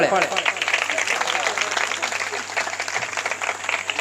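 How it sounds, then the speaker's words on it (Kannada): Loud, continuous applause from an audience at a religious discourse gathering in Karnataka while a swamiji is honoured with a shawl and garland; dense clapping fills the stretch without pause, with a faint hum underneath. "ಜೋರಾದ ಚಪ್ಪಾಳೆ"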